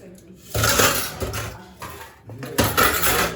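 Metal dishes, pots and utensils clatter and clink as they are set down in a household kitchen, in several loud, close clusters of ringing clanks.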